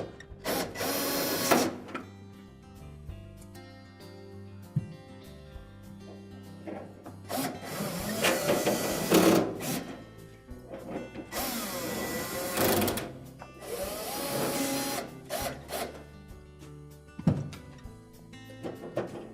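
A screwdriver reinstalls screws into the cover of a Whirlpool refrigerator, giving intermittent close buzzing bursts with rattles and knocks in between.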